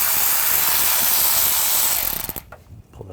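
A ratchet fitted with an E12 socket works on a bolt on a 2013-2022 Buick Encore 1.4L engine during a belt tensioner replacement. A loud, continuous whirring rattle runs for about two seconds, then breaks into a few quick clicks and falls quiet.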